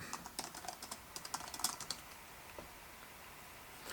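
Quiet, quick keystrokes on a computer keyboard as a name is typed into a search box, an irregular patter of soft clicks that thins out and stops partway through.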